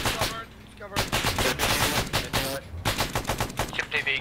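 Vehicle-mounted gunfire in a military video game, loud close bursts of rapid automatic fire in quick repeated volleys with short pauses between them.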